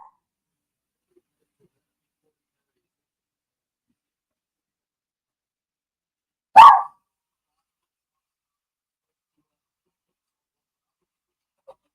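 A single sharp dog bark sounds at a side door, loud and abrupt, set against near silence before and after.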